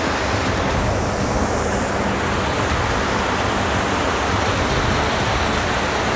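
Pantihan Falls in Maragondon, Cavite, pours as a steady, dense roar of falling water that fills the whole stretch at an even, close-up loudness, with no talk over it.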